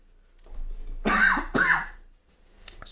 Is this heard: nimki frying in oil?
no